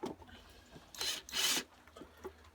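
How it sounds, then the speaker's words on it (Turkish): Cordless drill, a cheap budget model, boring into a knot in dry wood: two loud grinding bursts of a second or less with a short pause between, close up, with faint motor whir and no talk. "Şuradan deleceğim bakalım performansı nasıl."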